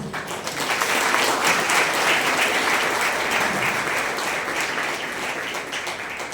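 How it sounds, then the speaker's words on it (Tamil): An audience at a district youth service seminar applauds steadily, a dense, even wash of many hands clapping that holds at a constant level throughout. "இந்த கைத்தட்டல் போராது."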